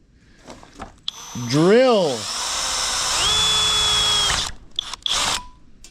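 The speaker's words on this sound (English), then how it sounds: "we're gonna just drill" A power drill whirs up and spins steadily for a few seconds drilling a 3/16 hole for a mini bike exhaust, its pitch rising and settling, with short clicks and handling noises before and after.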